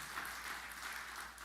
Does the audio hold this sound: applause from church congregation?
yes